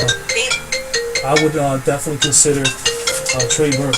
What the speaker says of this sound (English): Sorry about the phone, guys.